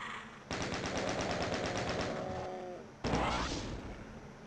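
Rapid bursts of automatic gunfire from the first-person shooter Doom (Enhanced Edition), loud and near, firing steadily for a couple of seconds, pausing, then opening up again.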